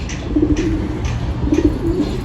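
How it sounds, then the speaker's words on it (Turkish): Pigeons coo softly and steadily nearby, with several low, rounded pulses repeating over a constant background hum. "Ama benim güvercinler de bugün tedirgin."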